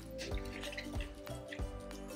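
Water poured into a plant pot while repotting water-propagated plants, a steady liquid trickle with soft dripping splashes recurring every half second or so, close and moderately loud, with no talking.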